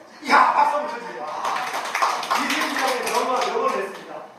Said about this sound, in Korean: 죽고자 하면 살 것이고 살고자 하면 이야, 박수 한번 쳐주세요.